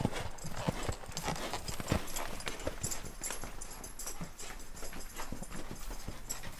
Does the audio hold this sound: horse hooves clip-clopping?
yes